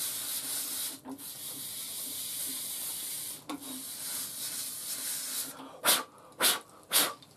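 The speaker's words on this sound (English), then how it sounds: "what I do is just run that on the tips and just sand the tips down" The thread tips of a Hope Easy Set threading jig are sanded down with abrasive, producing a steady close rasping hiss that breaks off twice briefly before three short, loud bursts of rubbing at the end.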